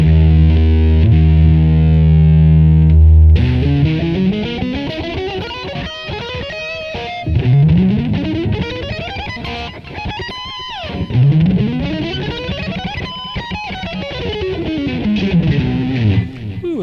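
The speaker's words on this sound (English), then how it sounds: "a lot of delay on that thing" Heavily distorted electric guitar plays a sustained note, then bending, sweeping lines smeared by a long echoing delay that repeats and trails off.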